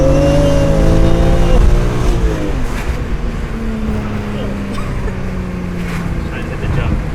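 A 2001 BMW M3 with 122,000 miles driving along, its engine droning and stepping down in pitch through shifts under steady road and wind noise, with voices talking over it.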